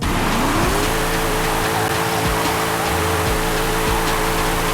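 Mercedes E55 AMG wagon held at full throttle without handbrake, spinning its wheels: a loud, steady engine roar with rising pitch, tire noise and a broad wash of wind, no voices.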